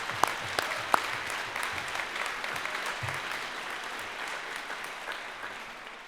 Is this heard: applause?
yes